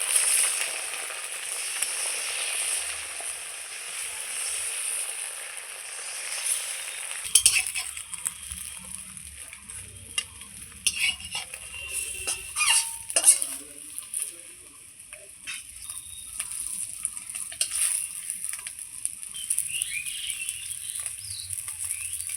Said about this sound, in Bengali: এইবার আমি অমলেটটা করে নিচ্ছি